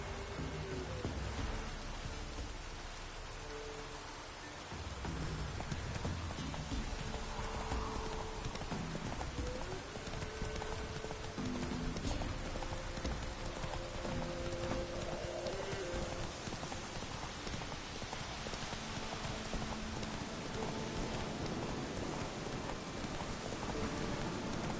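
The horse Roach's hooves clip-clop steadily through rain in The Witcher 3 video game, a continuous patter of rainfall and rhythmic hoofbeats alongside game ambience with faint tonal music. No one speaks.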